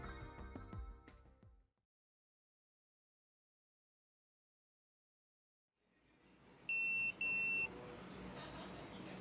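A phone in the Yakuza 0 video game rings in two short electronic beeping bursts after a brief musical passage and a stretch of silence, over a low steady background ambience.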